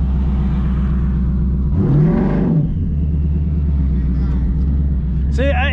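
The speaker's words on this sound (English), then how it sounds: "You're spinning tire." A 2018+ Ford Mustang with a 10-speed transmission, its engine droning loudly up close, then surging in a brief rev as the tire spins, with people talking over it.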